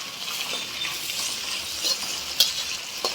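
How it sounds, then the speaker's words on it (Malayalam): Peeled small onions being stirred into pork in a hot pan, a continuous soft sizzle with occasional utensil scrapes and a sharper clink near the end, fairly quiet and close. "അതും കൂടി ചേർത്ത് കൊടുക്കാം. ഞാനത് അരിഞ്ഞിട്ടൊന്നുമില്ല, ജസ്റ്റ് ഒന്ന് തൊലി കളഞ്ഞ് കഴുകി എടുത്തതാണ്. എല്ലാം കൂടി ഒന്ന് മിക്സ് ചെയ്യാം."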